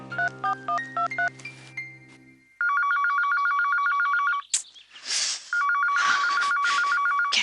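A phone dials with a quick series of tones, then an electronic ring repeats in steady bursts, broken by brief rustling noise.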